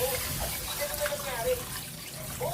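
Uncooked rice swished and rubbed by hand in water, a continuous wet sloshing with faint splashes, close and moderately loud, with a voice briefly audible in the background.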